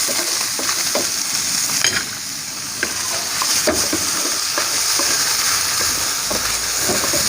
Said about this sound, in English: Keep on stir frying it